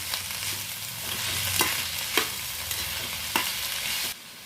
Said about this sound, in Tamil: முட்டைக்கோசை வந்து பார்த்திங்கன்னா இப்படியே வந்து வதக்கிக்கலாம்